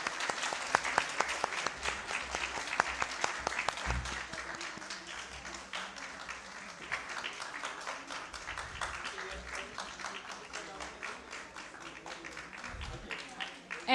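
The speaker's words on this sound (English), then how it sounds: "Please give her a big hand applaud" An audience at a medical conference on colorectal cancer applauds continuously with quick, crisp claps, fairly faint and steady, while a voice speaks briefly over it.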